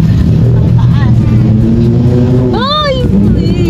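A motorcycle engine drones loudly and steadily close by, a constant low rumble with a brief rising tonal swell near the end, heard outdoors during a ride.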